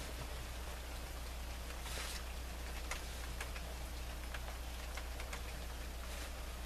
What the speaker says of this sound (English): It's raining in California.